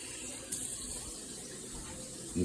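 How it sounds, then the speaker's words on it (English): Water is poured into a pot of rice with a steady hiss, a brief louder splash near the start and another at the end, close and unbroken with no talking. "So I'm going to add my water."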